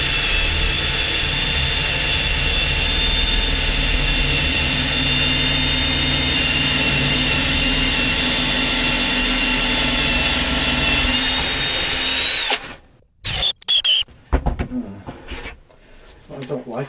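A DCA cordless hammer drill runs with a loud, steady high-pitched whine for about twelve seconds, then cuts out, leaving a few brief clunks and handling noises.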